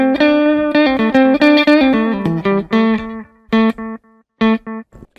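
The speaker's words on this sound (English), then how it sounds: "Analog echo, do we need to?" Guitar through a Line 6 POD Go's analog echo delay, a run of picked notes and chords trailing into repeating echoes that fade in the gaps, loud and alone with no voices.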